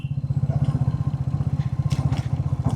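A motorcycle rides along an unpaved path through a bamboo grove, its engine chugging in a fast, even pulse close to the listener, with some rattling and brush noises over it and no talk.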